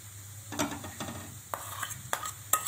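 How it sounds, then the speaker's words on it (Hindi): A mash roasting in a pan over a slow flame, soft sizzle beneath a few distinct scraping spoon strokes at irregular intervals, quiet and close. "अब ये स्लो फ्लेम पर लगातार धीरे धीरे चलाते हुए काफ़ी अच्छी तरह से भुन गया है।"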